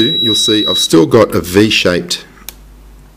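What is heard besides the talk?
RC helicopter radio transmitter beeping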